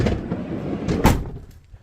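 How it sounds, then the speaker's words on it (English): A van's sliding side door slams shut once after insulation has been fitted inside the panel, giving a single solid thud with a brief low rumble and little rattle. "when you close the door now, it sounds like a solid door"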